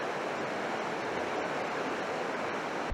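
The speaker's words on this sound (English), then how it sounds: "Right here is where the railroad would cross Belt Creek, and it's running pretty high." Belt Creek running high at a former railroad crossing in Sluice Boxes State Park, Montana, a dense continuous rush of fast water heard close and steady throughout, with no voices.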